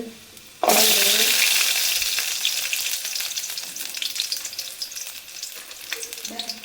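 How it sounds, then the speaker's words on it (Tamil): Ginger, garlic and tomato sizzle loudly in hot oil for a mushroom gravy, with a sharp burst as they hit the pan, then steady frying and occasional stirring that slowly settles. "இப்போ இந்த மஷ்ரூம் கிரேவிக்கு நம்ம இஞ்சி பூட்டு தக்காளி எல்லாம் வதக்கிக்குவோம்"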